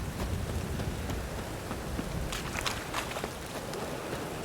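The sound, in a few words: rain in the video game The Witcher 3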